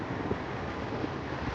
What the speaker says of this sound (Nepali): तर क्लाइमेट हावा चलिरहेको छ